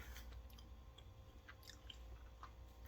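Close, quiet chewing of a homemade air-fried granola bar, soft moist mouth sounds with faint crunchy bites repeating over about three seconds, ending in a slightly louder bite.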